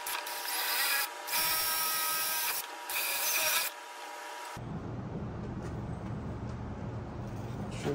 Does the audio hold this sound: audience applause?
no